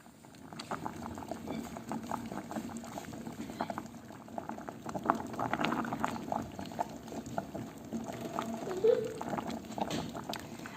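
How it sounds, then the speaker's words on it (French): Potatoes and cherry tomatoes boil in a pot of water, a steady bubbling and gentle popping that holds close and fairly even throughout, with no voices. "je vais les faire cuire et pocher dans l'eau"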